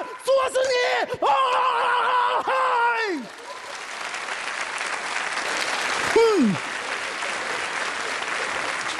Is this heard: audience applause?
yes